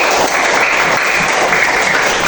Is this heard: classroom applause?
yes